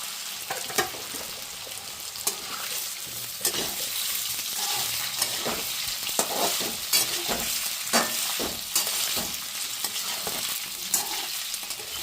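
Pieces frying and crackling in well-heated oil, a steady close sizzle with occasional stirring knocks and scrapes throughout, no talking.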